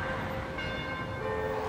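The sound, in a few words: church bell ringing for a funeral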